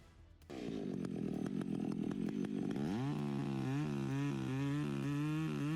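A chainsaw starts up abruptly and runs loud and close while felling a tree, its engine revving and then settling into a steady high whine, with no voices.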